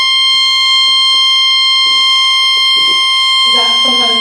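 A fire alarm sounds during a talk at a games industry conference, a loud continuous high-pitched electronic tone, with someone speaking over it and the audience stirring.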